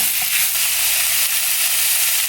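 Tomato stirred into a sizzling chicken pasta base in a pan makes a loud, dense, continuous frying hiss with faint stirring scrapes underneath.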